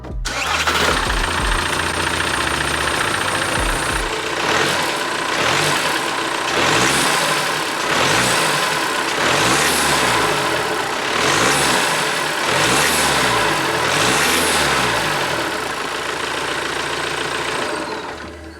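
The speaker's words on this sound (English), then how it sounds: "we'll start the car, get some noises, we'll get some like induction kind of noises before" A VW Scirocco 2 litre TDI R-Line diesel engine starts and runs, revving repeatedly in steady rising-and-falling surges, loud and close with no talking.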